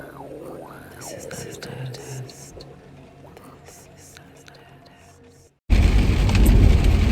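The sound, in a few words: rain falling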